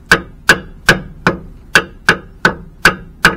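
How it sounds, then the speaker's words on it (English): A hammer smacks an old rusty rear shock absorber on a 4WD Daytona, nine sharp metallic clangs at a steady rhythm, each ringing briefly before the next, loud and close with no talk. "What happens if I smack that with a hammer like that?"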